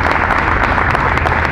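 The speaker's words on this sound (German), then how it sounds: "wir können einmal klatschen" Audience applause at an outdoor Greenpeace peace event in Münster, a dense, steady burst of many hands clapping, loud and close, with no talk over it.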